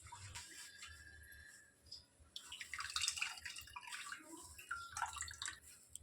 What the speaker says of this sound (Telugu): సో ఇలా ప్రెస్ చేస్తూ దీన్ని వాష్ చేసుకోవాలి.